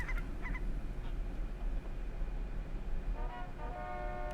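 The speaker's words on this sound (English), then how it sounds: "I gotta help Dad feed the geese." Geese in the video game Knights and Bikes give a few short nasal honks, a pair near the start and a quick cluster toward the end, faint over a low steady background.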